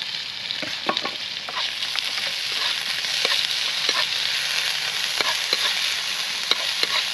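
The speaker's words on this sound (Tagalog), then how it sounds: "Lagyan na po natin chicken. Tumapit ha. Gisa-gisa natin." Chicken sautés in a pan with a continuous bright sizzle, punctuated by frequent sharp clicks and scrapes of a spatula stirring, close and steady throughout with no talking.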